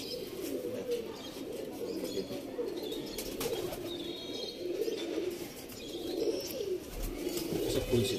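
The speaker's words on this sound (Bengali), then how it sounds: "জিরিয়া টাইপের বেরিয়েছে এই পায়রাটা, ফুলশিরা দিয়ে বেরিয়েছে।" Pigeons in a loft coo and flap their wings in a busy, continuous mix, with soft low cooing throughout and wing flutters and chirps nearby.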